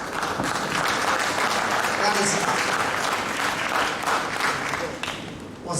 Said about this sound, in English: Wasn't the clap good?